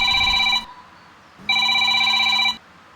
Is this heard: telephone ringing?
yes